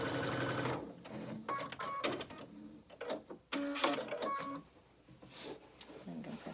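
A sewing machine runs a quarter-inch seam on a log cabin quilt block in short, stop-start bursts of mechanical whirring up close, while a person talks over parts of it.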